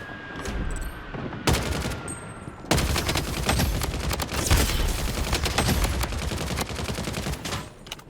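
Rapid automatic assault rifle fire in the Blood Strike video game sounds close and loud: a short opening burst, then sustained sharp shots in fast succession that continue to the end.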